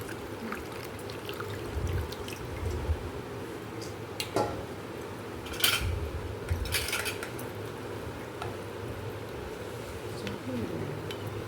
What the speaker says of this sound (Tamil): இப்போ சூப்பை வடிகட்டுறோம்